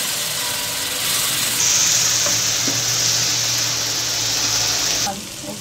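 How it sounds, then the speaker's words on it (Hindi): Paneer bhurji with garam masala, salt and chaat masala frying in a pan, a steady broadband sizzle with light stirring scrapes, fairly loud and close, easing off near the end. "अब इसको हम थोड़ा सा भूनेंगे।"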